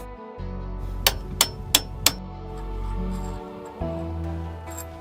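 Four sharp metal hammer blows strike a drift while working on a sailboat's mainsail track with a Delrin slide washer, evenly spaced and close, followed by low rumbling handling noise.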